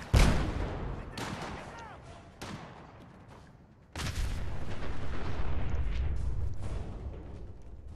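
Grenade blasts in Fallout 4: a heavy boom opens, then sharp cracks near 1.2 and 2.4 seconds and a second big explosion at about 4 seconds, its rumble lingering under crackling debris and other game noise.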